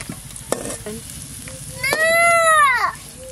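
Potatoes frying in oil for a sea crab dish, a loud close sizzle with a few stirring knocks, while a high child's cry or wail rises over it midway.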